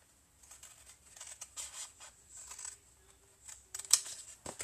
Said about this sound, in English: need to sharpen my scissors.